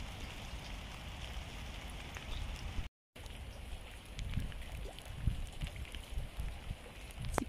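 Heavy May rain pours in a garden during the rainy season, a faint, steady hiss of downpour with occasional soft drips and patters, broken by a brief gap of silence.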